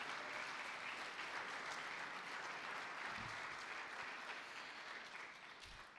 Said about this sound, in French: Je vous demande d'applaudir la République du Botswana.